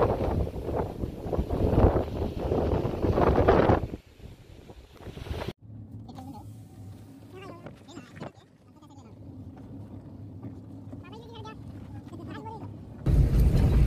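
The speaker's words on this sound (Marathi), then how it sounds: "हा बघा मित्रांनो, काय वारा सुटलाय" Strong wind buffets across the Gagan Bawda ghat mountain pass, a heavy roaring rush that cuts off abruptly, then quieter stretches where a voice talks and a bleating sound shows before the loud gusting returns.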